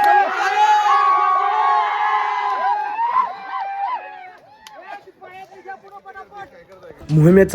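Fort volunteers cheer together in a loud crowd after finishing the first stage of a hill fort service drive, with many overlapping whoops and shouts that fade into scattered voices, then swell again at the end.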